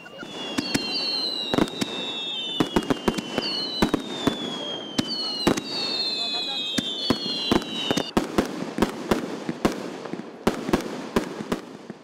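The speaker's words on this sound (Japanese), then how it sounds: "来場者が待ちかねた2000発の花火が夜空を彩りました。" Fireworks bursting repeatedly with sharp cracks and booms, whistling rockets rising between them, over a steady murmur of a crowd at a riverside summer festival, a 2000-shell display launched from across a river at night.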